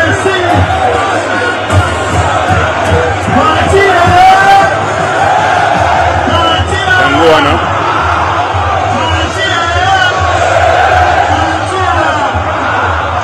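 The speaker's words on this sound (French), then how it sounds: "Une foule incroyable." A large, dense crowd roars and cheers continuously at a political gathering in Congo, a loud sustained wash of voices with scattered shouts and whoops rising over it throughout.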